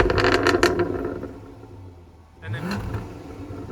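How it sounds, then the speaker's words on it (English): A 2016 Jaguar F-Type R with its exhaust closed revs once at the end, a muffled rising engine swell following a quieter idle stretch, with someone talking briefly over the start. "Couple revs with the exhaust closed."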